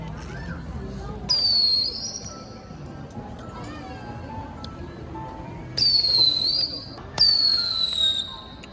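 Small fireworks shoot off outdoors with whistling launches that rise in pitch and fade, three bursts in all. Nearby voices and chatter from a crowd run underneath.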